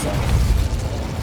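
A Depulso force spell cast in a wizarding video game, a deep booming burst with a rumbling low-end thud lasting about a second, loud and close.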